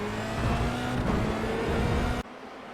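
Formula Renault 2.0 race car engine in iRacing, a steady loud whining drone building power through a corner, cutting off abruptly near the end.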